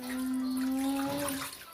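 Vinegar pours steadily over two pieces of pork ribs in water, a close, continuous liquid stream lasting under two seconds with no talk over it.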